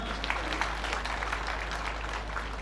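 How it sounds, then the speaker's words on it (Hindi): A crowd claps steadily for a national award winner at a railway week award ceremony, a brisk patter of many hands with a low electrical hum underneath. "आपके लिए एक बार पुनः जोरदार तालियां"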